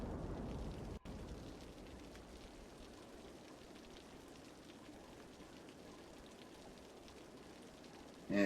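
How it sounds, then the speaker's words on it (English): Steady rain falls in the Cities: Skylines city-building game during a flood disaster, a constant soft patter with one brief dropout near the start and no talk. "And it's raining, which is probably not helping our floodwaters."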